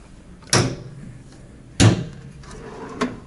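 A drawer in a Marriott Vacation Club hotel room in New York, heard as three sharp knocks and slides spaced about a second apart, close and fairly loud in a quiet room.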